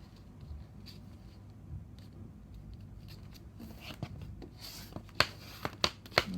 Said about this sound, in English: we're going to fold along these two dotted lines here